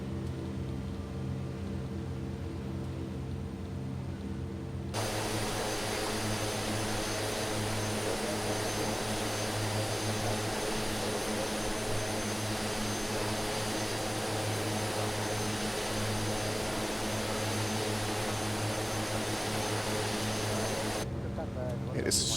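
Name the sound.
Twin Otter propeller engine noise from outside, flight simulator game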